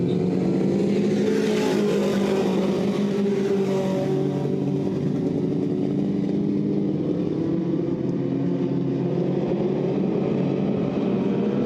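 Dirt track race cars at Southern Ontario Motor Speedway roar down the backstretch after a restart under caution, a loud, continuous pack of engines droning and revving together without pause.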